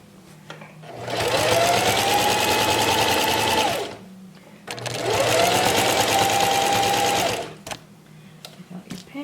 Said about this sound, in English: stick it underneath the pressure foot, and turn your machine on, and here we go. You want to sew on the bottom edge of it.